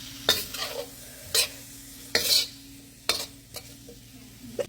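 Macaroni, vegetables and sausage get tossed in a sizzling pot, with a low steady fry under five or so sharp scraping stirs and clinks of a utensil against the pot.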